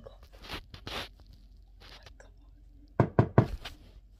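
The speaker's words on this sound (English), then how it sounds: "Knock on the door." Knocking on a door: a few soft scuffs and thumps come first, then three sharp, close knocks in quick succession near the end, with no talk.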